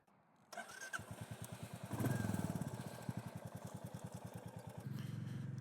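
A Royal Enfield Classic 350 motorcycle starts and settles into a thumping single-cylinder idle, then revs with a strong, even pulse, close and loud, with no speech over it.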